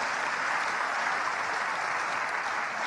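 A church congregation breaks into steady, sustained applause, a dense wash of many hands clapping together at even loudness from start to finish, with no voices standing out above it.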